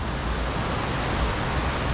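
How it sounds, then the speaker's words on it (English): A waterfall in Snowdonia National Park roars steadily and loudly right beside a hammock camp, a constant dense rush with no voices. "Right next to this waterfall."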